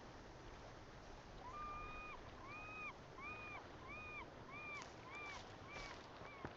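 Seagull-like calls repeat in a steady series over a continuous wash of ocean waves on a shoreline in the Sons of the Forest video game, moderately loud and mid-distance.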